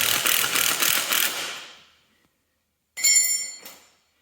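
A ratchet tightens quarter-inch grade 8 bolts on a motor being installed in a Cub Cadet 782 diesel tractor, two bursts of rapid, close metallic clicking separated by a short silence.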